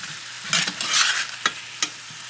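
Apple slices sizzling in a hot pan as they are flipped, a bright crackling hiss with a few quick scraping clicks of the spatula.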